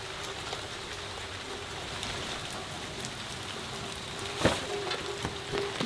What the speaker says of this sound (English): It is a rainy morning this morning, which was to be expected.